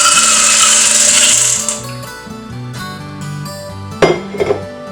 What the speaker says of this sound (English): To work on straining without using boiling water, one activity would be to use some marbles and water along with your colander